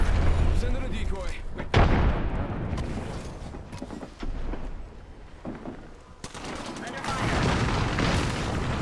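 Frag grenade explosion in a shooter video game, a loud booming burst that swells and decays amid continuous gunfire and game noise, with players talking over it.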